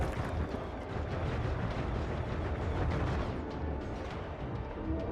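Artillery barrage in Warhammer 40k Rogue Trader, a heavy continuous rumble of overlapping explosions and blasts, loud and dense with no clear gaps between impacts.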